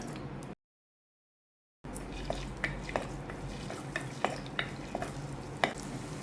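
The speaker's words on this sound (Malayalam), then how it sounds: "ഇഞ്ചിയും വെളുത്തുള്ളിയും ചെറുതായിട്ടൊന്ന് മൂത്ത് വരുന്നുണ്ട്." Ginger and garlic fry in a pan as the base for a crab curry, giving a steady low sizzle with scattered sharp clicks of stirring and utensil taps; it drops out briefly near the start.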